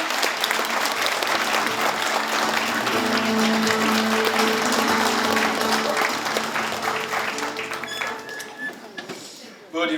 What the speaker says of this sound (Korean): 여러분 다시 한번 힘찬 박수 부탁드립니다.